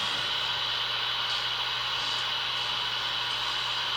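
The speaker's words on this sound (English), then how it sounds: "It's creating a lot of white noise though." Steady broadband hiss, like a fan or electronic device, running continuously at moderate level with a faint low hum underneath, inside the West Virginia State Penitentiary.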